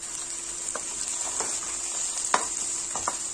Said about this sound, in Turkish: Şimdi sırasıyla küp küp doğramış olduğum havuçlarımı kavuruyorum.